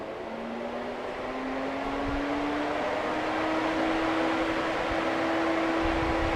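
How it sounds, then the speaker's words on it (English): Radiator cooling fans on a 2010 Lincoln MKX spinning up, a steady loud whooshing roar with a faint tone slowly rising in pitch as the fans gain speed, running continuously. "The fans, they take a while to spin up."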